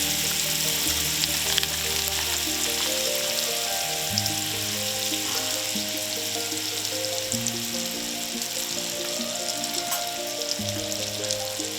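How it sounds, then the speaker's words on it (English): Butter sizzles and browns in a hot pan, a steady close crackling hiss with faint background tones and no talking. "the butter's browning because the pan was hot"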